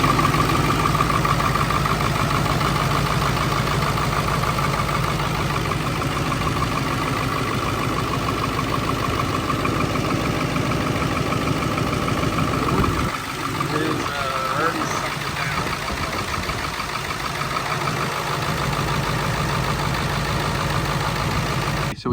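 A Ford 7.3 Powerstroke diesel idles steadily and loudly from start to finish with a constant droning rumble, and the engine note shifts briefly about midway while it keeps running.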